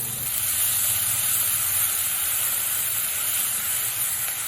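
Steady close sizzle and hiss of finely ground onion paste and spices frying in a pan for a bhetki fish kaliya, a constant crackling texture with no talk.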